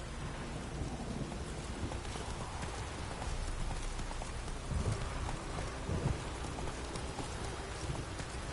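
Roach, a horse in The Witcher video game, with rhythmic hoofbeats coming through a rainy thunderstorm, faint and mostly buried under steady rain and low rumbling thunder.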